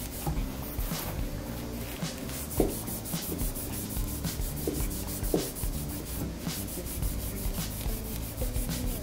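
A cloth rubs along a bass guitar's dry wooden fretboard during cleaning, close continuous scrubbing strokes with a few sharper knocks, no one speaking.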